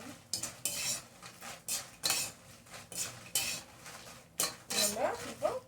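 Dried chillies frying in a pan while being made into bisibela bath powder, with repeated metal spoon scrapes and clanks against the pan in uneven bursts over a faint sizzle, no voices.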